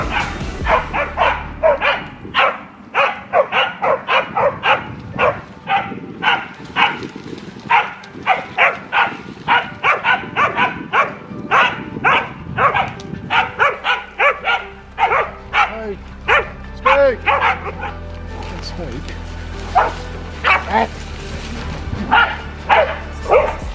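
A dog barks in a rapid, insistent run of loud, close barks that keep going for a long stretch, with some yips mixed in and speech underneath.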